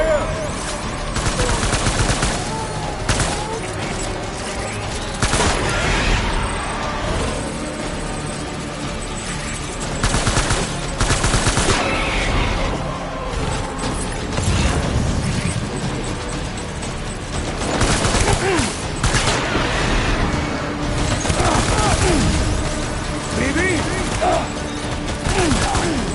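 Gunfire erupts in Death Stranding in dense bursts of shots and rattling automatic fire, loud and continuous, with crashes and a mechanical drone behind it and voices calling out in between.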